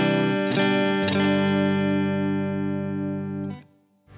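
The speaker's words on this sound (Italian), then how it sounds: "questo è il suono pulito" A clean electric guitar tone, played through an effects chain into an amplifier: a strummed chord rings out loud and sustained, re-struck twice early on, then left to hang for a few seconds before being cut off.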